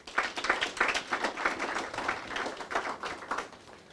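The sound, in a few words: audience round of applause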